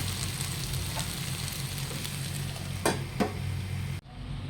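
Chicken pieces cooking in a pan for chicken dum biryani give a steady, close sizzle, broken by two brief scraping stirs near the end before the sound cuts off abruptly.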